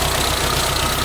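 A 1986 Suzuki Samurai engine drones steadily and close, idling evenly with a low rumble, brief and unbroken, with no voices.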